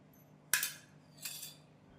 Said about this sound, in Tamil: தேவையான அளவு பட்டர் சேர்த்து நன்றாக மிக்ஸ் செய்து விடலாம்.